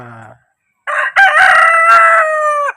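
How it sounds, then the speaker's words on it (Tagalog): A rooster crows loudly and close by in one long, drawn-out call, with brief clucking just before it from Brahma and Rhode Island Red chickens. "Ayan, update sa aking mga manok."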